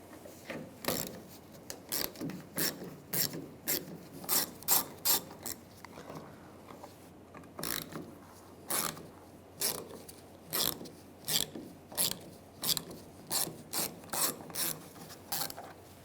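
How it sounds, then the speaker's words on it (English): A hand ratchet with a 7mm socket clicks in quick bursts while backing out bolts on a 1999-2006 Chevrolet Silverado fuel filler neck, repeated ratcheting strokes close and alone with brief pauses between. "I'm going to take these 3 bolts out. Use a 7mm socket."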